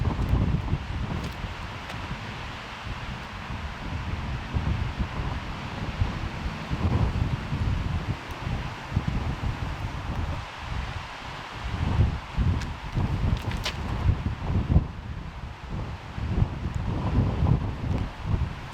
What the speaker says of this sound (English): Wind is up another notch or two